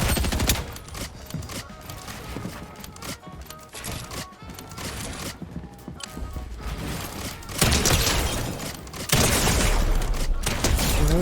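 Gunfire in Fortnite, rapid bursts of shots and clattering action sounds, loud and dense, swelling heavier toward the end.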